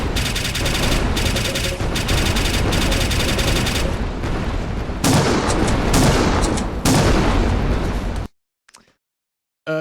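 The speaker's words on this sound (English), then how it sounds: "But if I start shooting..." Rapid gunfire from an Unreal Engine 5 game prototype bursts loud and dense for about eight seconds, volleys overlapping with short gaps, then cuts off abruptly into near silence with one faint pop afterward.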